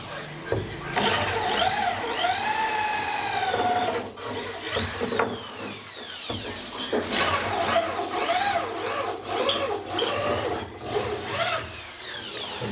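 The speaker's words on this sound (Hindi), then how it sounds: "ये अभी हम लकड़ी में होल करेंगे। देखिए ये लकड़ी में भी ड्रिल है।" An electric home-use drill bores a hole in wood, a loud continuous whine that rises and falls in pitch as the motor loads and speeds up, with brief pauses.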